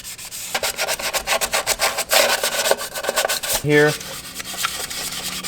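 Rapid back-and-forth scuffing of an ATV CVT drive surface with an abrasive pad, a loud rhythmic rasping close up, followed by a brief spoken word.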